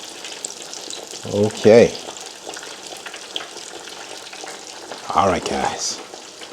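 Catfish frying in hot oil in a pan, a steady close sizzle throughout, with someone talking briefly twice over it.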